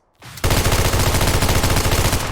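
A Famas rifle firing in the video game PUBG Mobile: after a short lead-in, a loud, close, sustained automatic burst of tightly spaced shots rattles on steadily.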